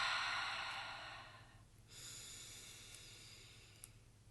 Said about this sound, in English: You can make your breath really loud.